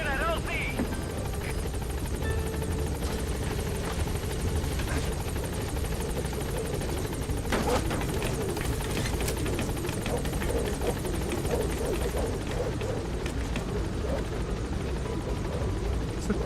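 Helicopter Pequod from the video game Metal Gear Solid V hovering, a steady loud rotor and engine drone filling the whole clip, with game voices and effects layered over it.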